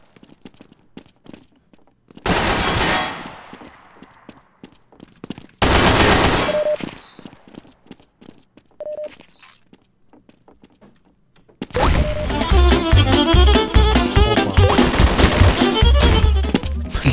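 Bursts of gunfire in Garry's Mod DarkRP, a video game: two loud volleys of shots separated by quieter stretches, then a long, dense, sustained barrage of rapid automatic fire near the end.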